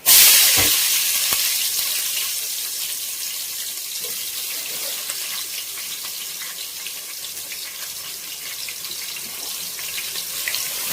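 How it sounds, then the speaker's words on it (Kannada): Onions dropped into hot oil in a pan while cooking radish sambar, a loud burst of sizzle at first that settles into a steady, close frying hiss throughout. "ಸೊ ಈರುಳ್ಳಿ ಹಾಕೊತೀವಿ."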